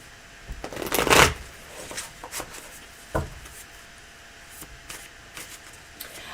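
Tarot cards are riffled and shuffled in a few quick bursts, one longer flurry near the start followed by softer taps and slides, close and fairly quiet.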